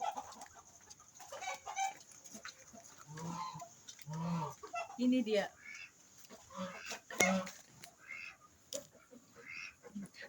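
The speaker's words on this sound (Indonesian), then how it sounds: "Terdapat ayam, terdapat entog, dan juga angsa di dalam satu kandang ini." Chickens, Muscovy ducks and geese share a single pen, giving scattered clucks, squawks and honks at close range, with a voice speaking briefly among them.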